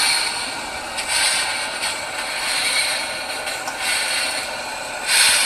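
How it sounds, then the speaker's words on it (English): Gauge one garden railway model train running along its outdoor track, a steady rolling clatter and mechanical rattle with faint rhythmic clicks, continuous and fairly loud with no talk. "Sounds like a real railway, doesn't it?"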